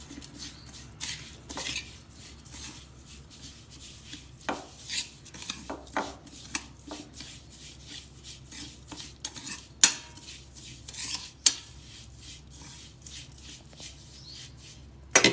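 Coarsely crushed fennel, squeezed grated mango and spices mixed for a pickle, heard as irregular clinks and scrapes of a spoon against a bowl with soft rustling in between, close and without talk.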